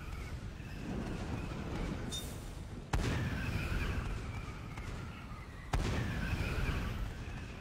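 Cannon barrages in the Attack on Titan 2 video game, two sharp loud booms a few seconds apart over a constant rumbling battle bed, with no talk.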